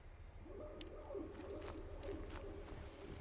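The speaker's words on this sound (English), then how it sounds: "I guess, robotic pigeons or something" Robotic pigeon-like cooing in a retro futuristic sci-fi horror game, soft repeated warbling coos in a gentle rhythm over a low droning background, faint and somewhat distant.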